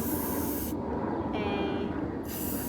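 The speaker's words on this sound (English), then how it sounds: "taking my spray paint here and creating" A spray paint can hissing as it paints a bright pattern, a steady close spray that stops briefly partway through and then starts again.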